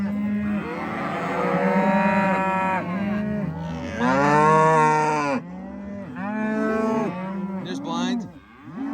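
A herd of cattle on a farm in upstate New York moos loudly and continuously, several overlapping calls of varying pitch sounding close by, one after another with no pauses for about nine seconds.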